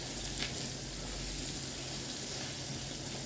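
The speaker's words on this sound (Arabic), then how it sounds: "هنا كنضيف البصله باش غادي تشحر" Chopped onion frying in a pan with oil, giving a steady, close hiss of sizzling that stays even throughout without any voices.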